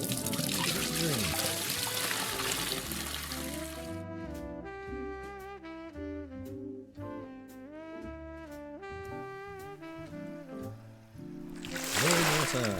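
Water pours steadily into an aquarium tank in the video game Aquarist, a trickling splash heard mostly at the start and end, with game music playing in between.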